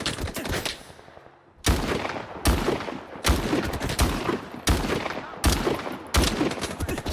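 Shotgun blasts in Stalker 2, six heavy booming shots fired at a steady, roughly even pace after a short pause, each loud and close with a short decaying tail.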